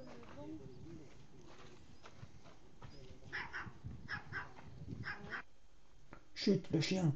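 A dog barks in short, faint bursts in a quiet village house with a sliding door, the barks spaced out and growing louder and closer near the end, with people talking softly around them.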